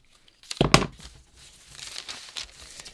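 Scissors or paper tearing through a shirttail hem pattern along a drawn line, a short crisp rustling burst followed by softer crinkling of the paper, close and fairly loud with no talk.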